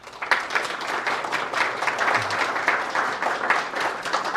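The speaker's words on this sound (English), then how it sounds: "give it a big applause" An audience at an SAP tech conference talk breaks into applause. The dense, steady clapping from the crowd is moderately loud and lasts for several seconds.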